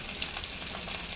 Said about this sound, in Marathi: आणि साईड बाय साईड आपण ह्या मिरच्या त्या पण मग आपल्या भाजून येतील